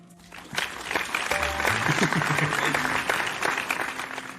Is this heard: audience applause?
yes